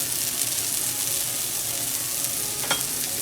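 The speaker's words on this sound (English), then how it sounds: "Cut tomatoes into half. Now caramelize them in same oil." Tomato halves caramelizing in oil, a steady, soft sizzle and fry with light stirring, continuous and close, with no voices.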